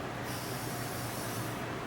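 A steady aerosol spray of WD-40 lubricant hisses continuously for a couple of seconds, close and even, with no voices, while working on a Pow'r Gard 5000 watt generator.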